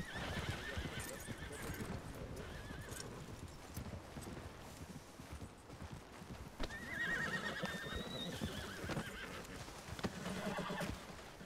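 Horse hooves clip-clop steadily in a Wild West setting while whinnies and neighs ring out over the top, with a louder stretch of neighing in the second half.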